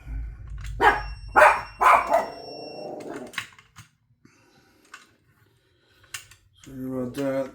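A dog frightened by thunder barks three loud, sharp times up close, followed by quieter clicking and shuffling and a short stretch of near silence, with faint voice-like sounds at the end.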